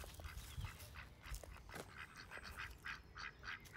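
Ducks quacking in a short run of repeated calls, moderately near, set against steady outdoor background noise on a riverbank planted with daffodils.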